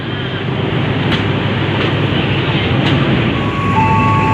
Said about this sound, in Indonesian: Lokomotif dinas kereta api Kaligung yang berdinas kali ini CC 2018334